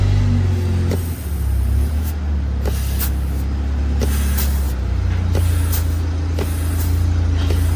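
Compressed air hisses in short bursts into a clutch hole of a 6L90 transmission during an air check on the workbench, several sharp blasts over a steady low hum.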